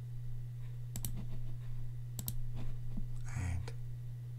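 A computer mouse clicks while working in Photoshop: two quick double-clicks about a second apart, then fainter single clicks, all close and crisp over a steady low electrical hum, with no talking.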